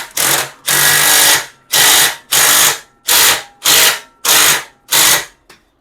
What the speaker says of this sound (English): now I'm gonna tighten this clamp